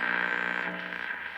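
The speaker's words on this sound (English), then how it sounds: "A little bit of static." Static hiss and crackle from a circa 1947-48 Zenith Trans-Oceanic AM radio tuned to a weak station, a steady dense noise with faint tonal hum beneath, fading slightly after the first half.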